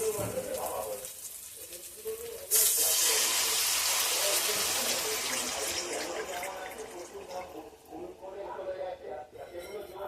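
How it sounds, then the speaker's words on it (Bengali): Water poured into a pan of well-browned radish kofta curry masala, a sudden loud hissing sizzle that starts a few seconds in and slowly fades while a person talks throughout. "এবার আমি জল দিয়ে দেবো।"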